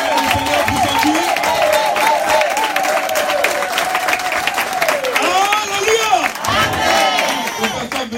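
A church congregation cheers, shouts and applauds in praise, a loud sustained crowd roar with rising, wavering voices throughout.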